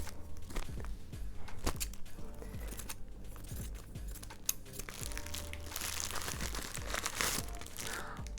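Crinkling and tearing of a green plastic AliExpress package close up, steady rustling with sharp rips and crunches, no talking.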